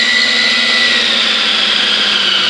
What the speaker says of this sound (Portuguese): Tem uma força boa para espremer laranja, tá? Faz um pouco de barulho por causa das engrenagens,